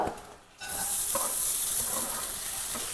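Chopped banana flower drops into a hot pan and a loud, steady sizzle bursts up after a brief quiet moment, hissing on evenly to the end.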